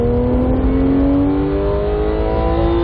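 Porsche 911 GT3 MKII race car accelerating on the Red Bull Ring circuit, a loud, steady engine roar with rising pitch as it pulls through the gears, heard from inside the car.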